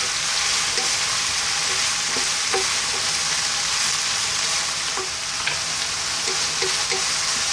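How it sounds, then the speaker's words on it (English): Lamb and eggplant cook over medium heat in a pot for an Italian stew and get stirred, giving a steady, dense sizzle with occasional soft scrapes and knocks of the spoon, close up and continuous. "Give it a stir every now and then."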